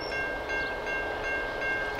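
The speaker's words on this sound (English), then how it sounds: "So we're about to see two trains already." Freight trains, including an empty coal train, rolling along a main line beside heritage rail traffic, a steady rumbling pass at moderate distance with a continuous broad roar and faint high tonal hum, no voices.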